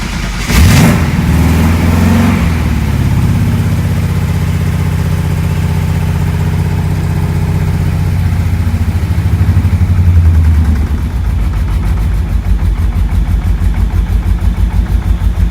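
A V8-swapped Mazda RX7 on an Odyssey PC1200 Extreme battery cranks and fires from cold, its engine rumbling loudly and high at first, then settling into a lumpy, pulsing idle.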